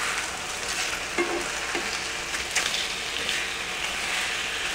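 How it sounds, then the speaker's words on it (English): Steady, close sizzling and crackling of chicken frying in a pan, continuous and even with occasional small pops, no voices. "Okay, the chicken is frying nice."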